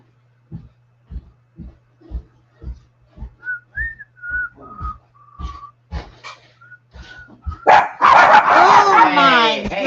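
Puppies bark in a rapid series of short, high yips that come in an even rhythm, mixed with thin whistle-like tones, then swell into a louder, denser burst of barking at the end.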